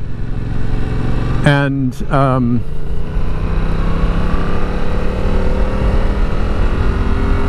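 Yamaha R7 motorcycle engine while riding: a steady, loud engine drone and wind roar run throughout, with a brief rising rev partway through and someone talking briefly over it.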